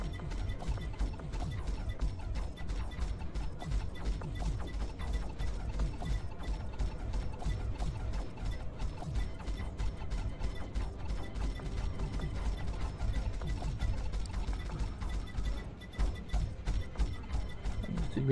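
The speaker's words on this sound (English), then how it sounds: "You can hear that the hit sounds have changed, so it means we have started to do a lot of damage to the hull of the ship." Weapon hits striking a ship's hull in a space combat game, heard as a dense, continuous stream of fast metallic clicks and rattling impacts over a low rumble, fairly quiet throughout.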